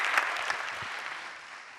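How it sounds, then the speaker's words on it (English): Audience applause at a senior high school renewable energy challenge event, a steady wash of many hands clapping in a hall, moderately loud and continuous, fading slightly toward the end. "Well, I'm sure we can do better with the applause."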